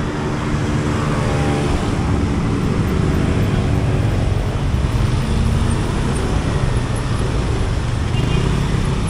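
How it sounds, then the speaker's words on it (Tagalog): Dense road traffic on EDSA in Manila, a steady loud roar of engines and tyres heard up close, continuous throughout with no clear gaps. "traffic pa rin"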